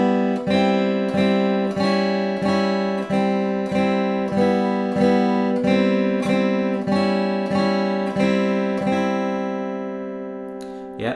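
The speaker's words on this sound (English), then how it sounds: "let's look at the chords now that go over the top of the part we just looked at." Beginner electric guitar strums the chord part of a theme, about a dozen evenly spaced chord hits ringing out in a steady rhythm, loud and close, the last one left to decay.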